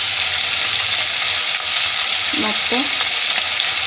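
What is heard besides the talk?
washed mutton added to pan, frying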